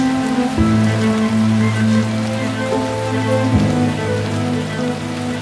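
Steady rain falls across the Upo wetland, a dense, even patter of drops on water and leaves filling the scene without pause, close and moderately loud, with no voices.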